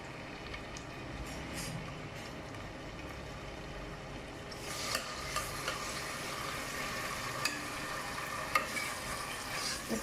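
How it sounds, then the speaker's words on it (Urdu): Onions frying in a little oil in a pan give a low, steady sizzle with occasional spatula clicks and stirs growing slightly louder toward the end. "اس کو تھوڑا سا فرائی کریں گے"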